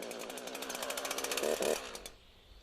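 A chainsaw engine buzzes loudly at high revs, then drops to a steadier, quieter idle near the end, close up and with no speech.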